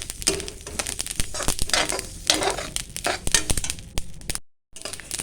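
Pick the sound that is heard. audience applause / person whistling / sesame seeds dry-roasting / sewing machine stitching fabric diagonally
sesame seeds dry-roasting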